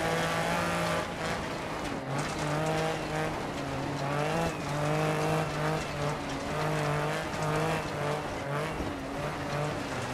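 Rally car engine in Dirt Rally on a Welsh gravel stage, its revs rising and falling continuously as the throttle is feathered on and off, loud and close throughout.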